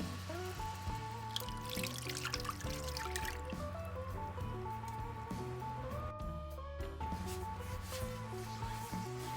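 Milk is poured into a roux for creamed chipped beef, a steady liquid pour and trickle heard closely over a background of music, with no talk.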